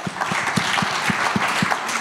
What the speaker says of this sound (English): I even didn't have to ask them to applaud you, Abdul Malik.